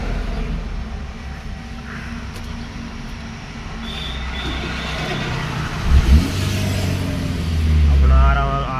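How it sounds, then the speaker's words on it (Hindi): A vehicle engine cranks and catches, its low rumble building to a swelling roar near the end, heard up close on a hot day with steady background noise. "मैं गाड़ी स्टार्ट कर लेता हूँ"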